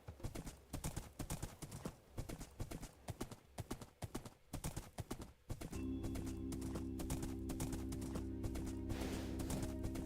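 A horse in the Minecraft modpack Gregtech New Horizons trots with rapid, rhythmic clip-clop hoofbeats. A steady droning hum takes over partway through, and the whole stretch is quiet.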